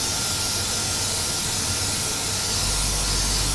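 Spray is applied onto model scenery work with a steady, loud, continuous hiss lasting throughout, close by and without any talking.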